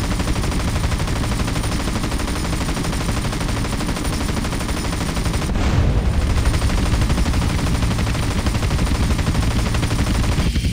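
Sustained, dense automatic gunfire from the video game GTA San Andreas, loud and continuous with rapid overlapping shots throughout, briefly shifting partway through.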